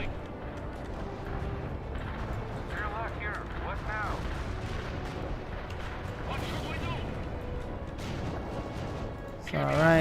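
Artillery barrages in the World in Conflict video game, a steady rumble of distant explosions and gunfire under continuous talk, swelling with a louder blast at the end.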